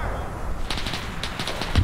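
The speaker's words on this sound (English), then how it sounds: "they're actually shooting at a friendly tank because it's up there" In a WW2 armor video game, a burst of rapid machine-gun fire crackles in quick repeated shots over rumbling battle noise, moderately loud and close.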